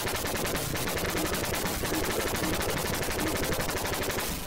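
Enemy soldiers in an arcade shooter game fire continuously as they run, a dense, rapid stream of machine-gun shots rattling steadily and loudly without pause throughout.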